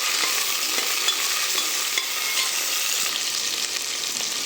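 Onions sautéing in a pan for a green pea pulao, a dense, loud, continuous hiss of frying oil with light scrapes of stirring, close and without any voices.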